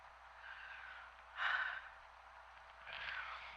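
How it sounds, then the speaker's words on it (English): Heavy, faint breathing from a person hiking outdoors, a few long huffing exhales in an uneven rhythm, close to the microphone with no talk. "So forgive the heavy breathing."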